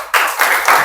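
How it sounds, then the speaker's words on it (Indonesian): A classroom of students claps for group 1, three quick swells of clapping close by, each burst rising sharply and fading slightly. "tepuk tangan untuk kelompok 1."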